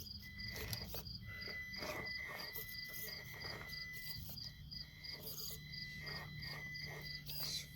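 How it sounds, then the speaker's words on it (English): A Traxxas TRX4 RC crawler truck set in crawl mode gives off a thin, steady electronic whine from its ESC, with wavering high tones that hold throughout over a constant background hiss. "I've got it set in crawl mode, which you can hear that ESC whining."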